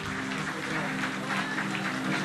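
An audience at a concert held in a restaurant breaks into steady, dense applause, loud and continuous throughout with no voices over it.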